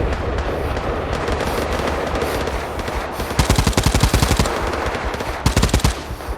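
Automatic gunfire in the World War 3 video game: a loud, dense battle din that breaks into two rapid bursts of machine-gun fire, each rattling off many quick shots up close, with no talk over it.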